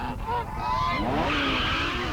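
A goose gives a couple of quick, close honks, followed by a rising, tonal squawk or skid-like sound, all brief and loud.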